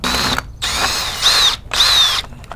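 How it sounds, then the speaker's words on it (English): A power drill tries to back a screw out of rotted, untreated wood: three loud, close whirring bursts separated by brief pauses, with no talking. "it's so rotted, I can't even unscrew the screw."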